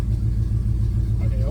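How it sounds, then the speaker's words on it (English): A Chevrolet C10 truck engine with its exhaust cutouts closed settles into a steady, deep idle right after starting, a close, low rumble with a regular pulsing throb throughout. "this is first fire up with the cutouts closed"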